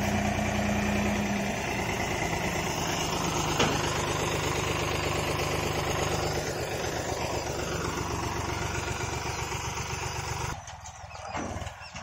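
A tractor engine idles steadily while coconut pieces are unloaded, a close, continuous throbbing rumble that holds for several seconds before a few rattling knocks near the end.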